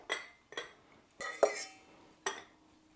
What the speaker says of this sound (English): I should have enough to dump a 1/3 cup of carrots into each one of the jars